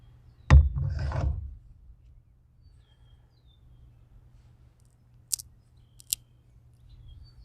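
A knife cutting into a wooden stick to carve a trap trigger outdoors, one firm close scrape-and-crack lasting about a second, followed by quiet with a couple of faint distant bird chirps.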